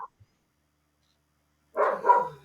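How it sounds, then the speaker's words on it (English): A dog barks twice in quick succession at moderate loudness after a long stretch of near silence, with no talk over it. "Sorry, my dog."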